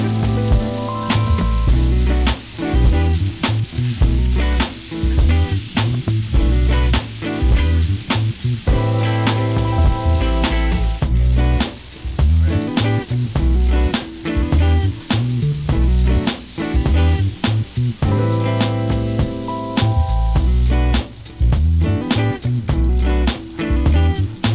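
Steak sizzling in a cast iron pan, a loud, steady, dense frying hiss with crackling pops running throughout, close and unbroken.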